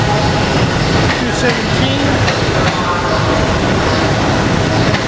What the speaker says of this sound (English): We got rail cars 239 of a Chestnut Hill West train